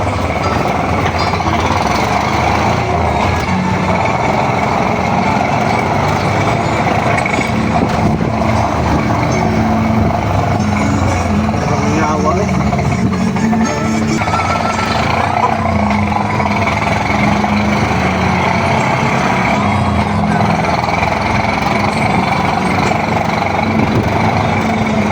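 Loud, continuous engine drone of a motorized tricycle during a ride in Mintal, a steady rumbling hum with road and wind noise, close and unbroken throughout.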